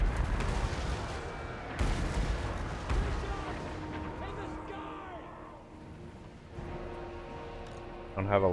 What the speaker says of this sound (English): Alright, let's start bombing.